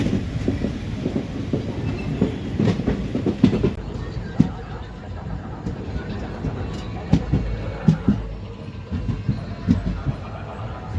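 A Pandharpur–Tirupati special train with ICF coaches rolls along, its continuous rumble carrying rhythmic clickety-clack wheel beats and rattles heard from inside the carriage, with faint voices in the background.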